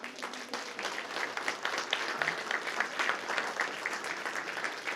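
A school audience gives a dense, steady round of clapping for elementary principals standing up, a continuous close patter that holds evenly throughout.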